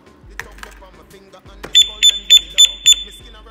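A motorcycle alarm system under test gives five loud, evenly spaced electronic beeps, each short and bright, following a few softer clicks and taps.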